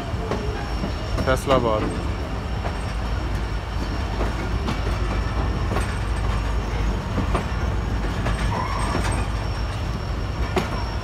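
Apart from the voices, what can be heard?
train approaching platform 3, Karachi station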